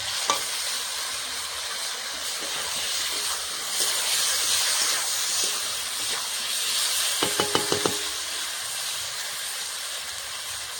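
Chili paste goes into a pan of reddened fried potatoes, raising a steady frying hiss and sizzle, close up, with soft stirring throughout and a short burst of sharp utensil taps near the end.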